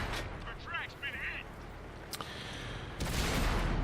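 Artillery fire in World of Tanks during a T25/2 battle, a sharp distant crack followed later by a heavier booming blast, set against engine rumble with brief chirping tones early on.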